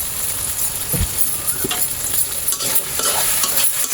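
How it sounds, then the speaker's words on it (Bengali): Potatoes sautéing in a pan, a loud, close, continuous sizzle with frequent scraping and stirring strokes of a utensil throughout. "আলুটা আগে দিয়ে কষিয়ে নিচ্ছি"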